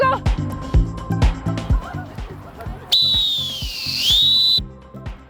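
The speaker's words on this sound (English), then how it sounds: "That's loud, isn't it? It's whistle," A loud, shrill sports whistle blows one sustained warbling blast at a football training session, cutting over rhythmic thuds and clatter, with voices in the background.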